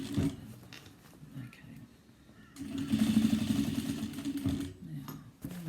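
A sewing machine stitches a cross-body bag, running in a steady mechanical whir for a few seconds, with quieter handling before and after.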